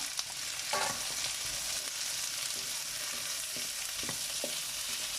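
Chilli paneer fries and is mixed in a pan, a continuous close sizzle broken by a few scraping stirs of the spatula against the metal.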